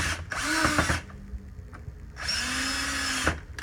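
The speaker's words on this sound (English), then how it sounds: "when you're putting these screws together, make sure you do not over tighten them" A power drill drives screws into a plastic mop drain assembly in two separate bursts of close, loud whirring, each ending with a short strained grind, with a quiet pause between them.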